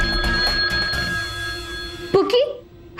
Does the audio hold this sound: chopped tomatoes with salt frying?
no